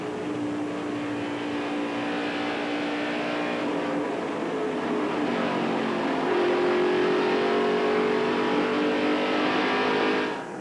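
Race cars at Atlanta Motor Speedway during a 1994 ARCA SuperCar Series race roar steadily for ten seconds, engines droning and shifting in pitch as they pass, fairly loud and continuous with no talk.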